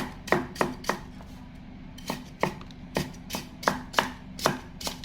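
Fingerroot (krachai) chopped with a knife on a cutting board, about a dozen sharp, irregularly spaced thwacks close to the microphone, with no talking.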